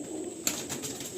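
Butterfly-breed pigeons give a brief coo close by, with one soft burst of bird call over steady low background hum; no talking.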